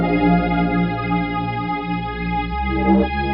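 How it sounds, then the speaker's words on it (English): Synth melody from the Surge software synthesizer, thick with chorus and reverb, sustained harmonic notes gliding between pitches, loud and alone with no voices. "I played this melody with Surge VST, one of the few instances that I used an external VST"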